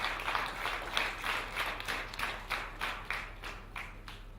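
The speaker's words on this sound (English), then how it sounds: "That deserves a strong hand clap." An audience at a memorial lecture applauds, the faint clapping rising and falling in soft waves as it continues throughout.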